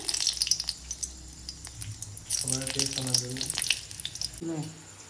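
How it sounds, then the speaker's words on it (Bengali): Dried red chillies hit hot oil with a little sugar in a wok, giving bursts of sizzling and spitting close by, while a voice talks over the frying. "শুকনো লঙ্কা ফোড়ন দেওয়া হচ্ছে।"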